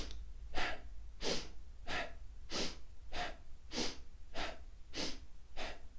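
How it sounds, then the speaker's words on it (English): Breath of Fire breathing: quick, forceful nasal sniffs in and out repeat in an even rhythm, about ten sharp bursts, close and alone with no talking. "if I sniff in, the only thing I'm going to do is match it with a sniff out."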